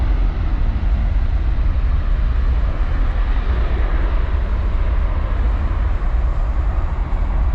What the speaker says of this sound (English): Man, that is a huge plane.